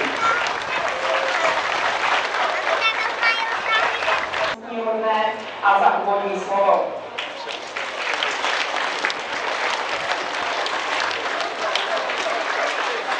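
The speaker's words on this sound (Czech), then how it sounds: "aby všichni, co tady sedíte na voze, i svým potleskem pogratulovali" Outdoor crowd applause at an emergency services open day in Pelhřimov, a long burst of clapping interrupted midway by a short spoken phrase and a brief musical interlude before the applause resumes.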